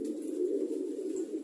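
Pigeons coo in a continuous low, throaty murmur, several birds blending into one steady close-up drone with no other sounds around it.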